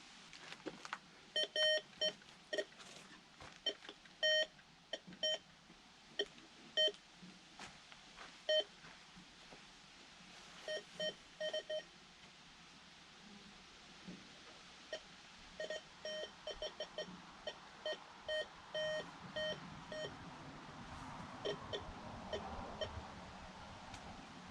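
A cheap handheld metal detector sweeping over urban timber logs gives short, quiet electronic beeps in irregular bursts, some repeating in quick runs, over faint background noise.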